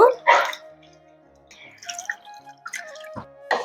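Slaked lime being stirred into water in a bowl for mango murabba: sparse, close liquid drips and small splashes over near silence.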